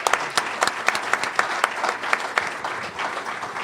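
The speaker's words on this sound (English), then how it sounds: "let's give applause to all these speakers here." Audience at a human rights conference claps for the speakers, a close, even patter of individual hand claps with a few sharp louder claps standing out.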